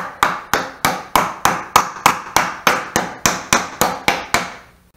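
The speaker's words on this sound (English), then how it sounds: "I could go ahead and reinstall these little rubber plugs on the ends." Sharp, evenly spaced hammer blows, about fourteen in a row, drive small rubber plugs into the ends of Jeep rock sliders held in a jig; loud, close strikes with short ringing decays and no talk.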